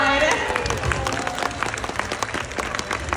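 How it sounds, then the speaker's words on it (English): Audience clapping and cheering fill a sea lion show at a Six Flags park, a dense steady wash of applause from a crowd that carries on throughout, with some voices mixed in. "I think that deserves a round of applause."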